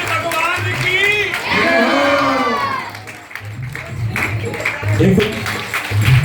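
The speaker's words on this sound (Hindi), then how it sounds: "जोरदार तालियां, जबरदस्त।" Audience at a devotional Sudama tableau performance breaks into loud clapping and cheering with whoops and children's shouts, while a presenter's amplified voice talks over the crowd.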